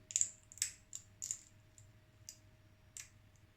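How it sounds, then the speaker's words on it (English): A safety razor blade clicks into place, a handful of sharp, close metallic ticks spaced unevenly over a few seconds in a quiet room. "hold it and push the blade in, and it makes a clicking noise"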